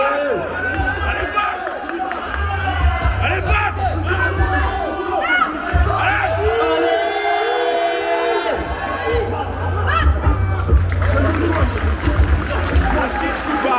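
Loud crowd in a gym cheering and shouting encouragement during a weighted pull-up attempt at a strength competition, continuous close voices and someone talking over them.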